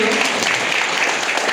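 Audience applause fills a hall, a dense, steady wash of clapping from many hands, loud and continuous throughout the short burst with a faint voice briefly beneath it.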